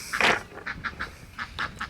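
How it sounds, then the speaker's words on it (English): A duck quacks repeatedly nearby, one loud raspy call followed by a string of shorter, quieter quacks in an uneven rhythm, with no talking. "See that duck? We're gonna have to catch it."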